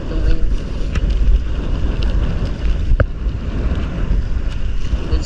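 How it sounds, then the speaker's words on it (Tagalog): Strong wind buffets the microphone in a steady, loud roar, with a boat motor and water noise beneath it. "Grabe yung hangin dito"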